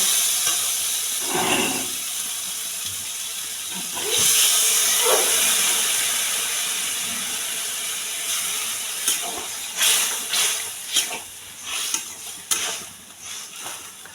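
Water poured into a pan of sizzling okra masala; a steady fry hiss gives way to a louder burst of steam, followed by spaced bubbling pops and stirring scrapes toward the end, close by.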